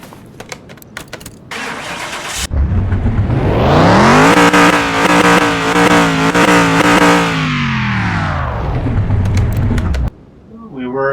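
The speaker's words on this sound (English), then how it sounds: "I'm just going to go ahead and see if we can get this vehicle started." A 1968 Pontiac Tempest cranks over and its V8 catches, then revs loudly up and down for several seconds before settling back and shutting off, with clicks before the start.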